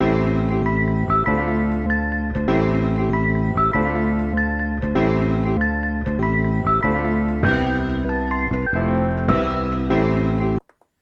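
A chopped sample pattern played on an MPC Live 2, with looping melodic slices repeating in a steady four-bar phrase, loud and clean without drums, stopping abruptly at the end.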